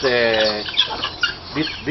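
Egyptian fowls and chickens cluck close by in a rapid, overlapping burst of calls, loud and alone.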